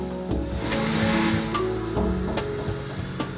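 A Porsche 911 of the 996 generation drives hard with a loud, steady engine roar and tire squeal, close and continuous throughout with no voices.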